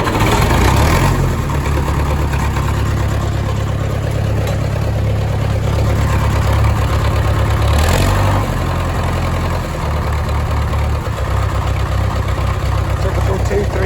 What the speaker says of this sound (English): Need to be spraying it and turning the engine over.